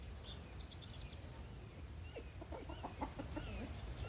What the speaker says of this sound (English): My dog's about to go attack a chicken.